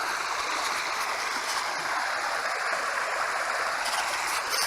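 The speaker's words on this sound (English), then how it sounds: "I'm in the middle of the stream or the river." A stream at Winfield Mill in Plaxtol flows with a steady, close, even rush of water that carries on unbroken throughout, with no voices.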